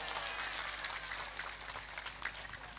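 Audience applause at a Madurese religious talk by KH Kholil Yasin in Kalianget Timur, a dense steady wash of many hands clapping, fairly distant and even throughout, with no speech over it.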